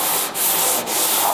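Sanding on the bodywork of a scrap yard Chevy: close, steady abrasive rubbing with two brief pauses in the strokes, loud and alone.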